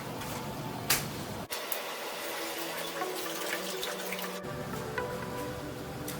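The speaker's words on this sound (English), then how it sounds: "Okay, so in this very moment I am going to add some beef broth" Beef broth pours into a pot for Bun Bo Hue, a steady liquid rush that runs the whole time with a brief shift partway through, near and even in level.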